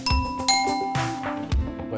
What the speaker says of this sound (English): you don't necessarily have to leave all the doors open just to be able to hear the doorbell ring